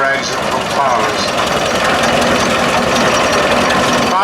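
A Fowler steam engine runs smoothly at a vintage steam rally in South Cerney, Gloucestershire, its reworked gearing keeping it quiet; a steady, continuous mechanical churn with fine rhythmic ticking, with the busy background of the outdoor show.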